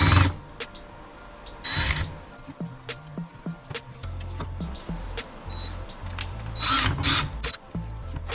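Screws being tightened on a mini CNC machine build: repeated ratcheting clicks and short whirring bursts from a driver, interspersed with metallic taps and pauses, close and fairly loud, with no talk.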